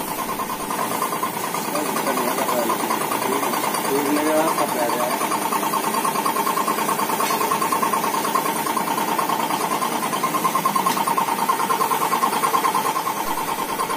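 A spray gun painting parts of a Pulsar 150 motorbike in a workshop gives a steady, loud hiss over a constant mechanical hum that runs unbroken throughout.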